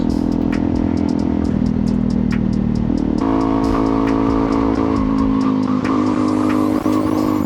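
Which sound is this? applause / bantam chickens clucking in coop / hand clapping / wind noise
wind noise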